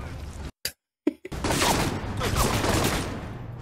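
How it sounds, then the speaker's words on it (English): Gunfire in the video game Alpha Protocol: a couple of brief shots separated by dropouts, then a loud, continuous barrage of overlapping fire that fills the rest of the moment. "How are you shooting me through a wall?"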